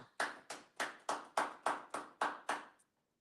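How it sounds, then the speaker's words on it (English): Congregation at a Sabbath service clapping in unison, nine sharp, evenly spaced group claps in a steady rhythm, each decaying quickly, followed by a brief silence. "Go ahead and clap it up."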